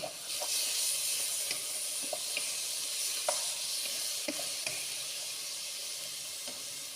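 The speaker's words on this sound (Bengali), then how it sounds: "এখন আমি এটা মেরে একটু ভেজে নেব" Chopped potato, carrot, green chilli, onion and tomato frying in oil, a continuous close sizzle and hiss broken by scattered small pops and clicks of a spoon on the pan, no talking.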